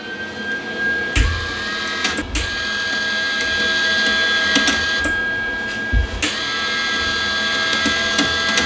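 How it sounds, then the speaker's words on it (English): A new Lincoln welder feeds wire from a crisscross-wound spool through a straight welding gun and cable, a steady mechanical whirr and hum punctuated by irregular clicks and knocks close by. "first part of this spool is a little bit kind of wound up crisscross, so it's making some weird noises"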